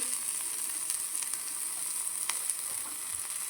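Onion sizzling in a pan of cooked mushrooms, a steady, fairly quiet crackle and hiss with a few sharper pops and no talking.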